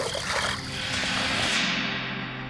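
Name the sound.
rock thrown into a river, splashing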